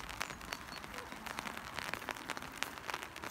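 Steady rain patters on a surface nearby as a dense, even hiss with scattered droplet ticks, no talking over it.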